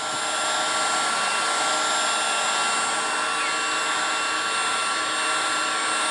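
A heat gun blows continuously while warming vinyl wrap on the rear of a Y62 vehicle, a loud steady whooshing whine that holds unchanged from start to finish with no talking.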